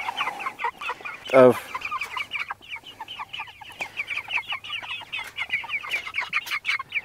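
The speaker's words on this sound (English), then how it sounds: "my chickens are pecking at the tripod and the camera" Backyard chickens cluck steadily and close up, pecking at a camera tripod. There are sharp taps and one louder squawk near the start, and a voice briefly speaks.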